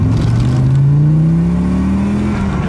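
An Audi Sport quattro accelerating hard in second gear, its engine note rising steadily in pitch as it pulls, loud and close throughout with no talk over it.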